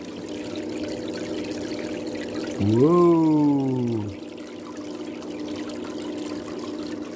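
Water runs through a homemade clean-up sluice under a steady low flow, while a brief surge of louder pouring swells for about a second and a half before settling back; a voice exclaims once.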